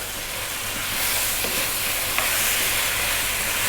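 Vegetable rice with chickpeas, cashews and raisins fries vigorously in a pan over above-medium heat, giving a steady loud sizzle and hiss throughout with a few faint scrapes of stirring and no talk.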